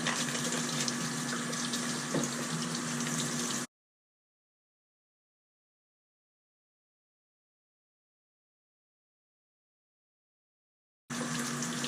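Tap water runs steadily during upkeep of a Fluval 406 aquarium canister filter, a close, continuous hiss for a few seconds, then dead silence before the flow returns at the end.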